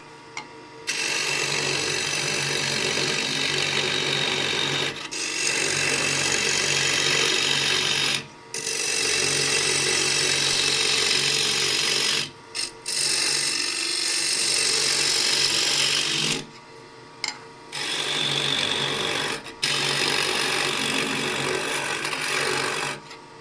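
A ball gouge hollows the inside of a wooden box on a lathe, giving a steady rasping, scraping cut in long continuous passes broken by short pauses between strokes.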